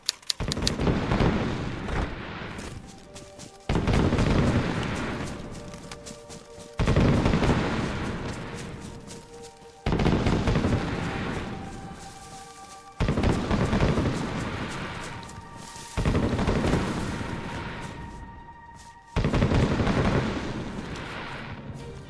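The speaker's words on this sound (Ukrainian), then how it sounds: "Але поряд хтось вирішив запустити салют." Fireworks in the video game DayZ boom and crackle in a series of about seven loud bursts, each one fading out before the next round of sharp, rapid pops begins.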